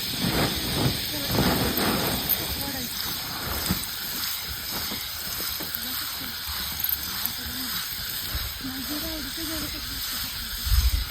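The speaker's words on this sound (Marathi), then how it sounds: "लसूण चांगला कडकडीत झालाय बघा. आता थोडंसं हिंग टाकायचं आपल्याला." Garlic and asafoetida sizzle in hot oil for a pickle tempering, a constant bright hiss running underneath a person talking close by.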